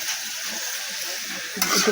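Drumstick flowers and brinjal sizzle steadily in a hot pan, a close, even hiss with a brief louder flare near the end.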